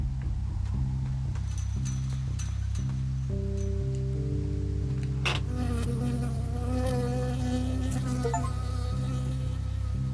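Insect buzzing in the video game Firewatch, a persistent droning hum over a layered music bed, growing busier and brighter partway through.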